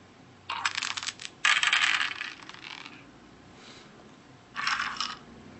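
Dice rattling and clattering from a mobile phone game, three short bursts of rapid clicking tumbles separated by quiet pauses, close and fairly faint, with no talking.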